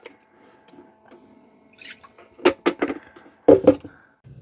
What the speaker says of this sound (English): Let's empty the dirty water tank.